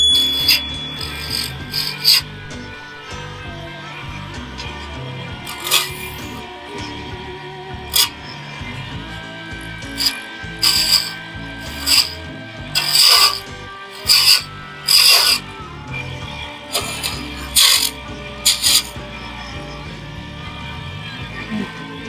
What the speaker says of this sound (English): Let's start off with the square